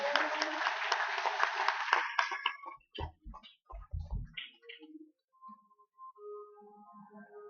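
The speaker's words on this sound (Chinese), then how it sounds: "我们志工伙伴再次给他们热烈的掌声。" An audience claps warmly for volunteer helpers at a training camp, a dense burst of applause that fades after two seconds into scattered sounds and faint background music.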